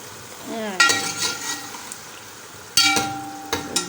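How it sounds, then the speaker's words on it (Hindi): Mutton pieces and potatoes fry together in a pan, a steady sizzle broken by a few sharp bursts of stirring and scraping, close and fairly loud. "इसको फ्राई करने के साथ मैं आलू भी डाल देती हूँ, तो हमारे आलू भी फ्राई हो जाएंगे"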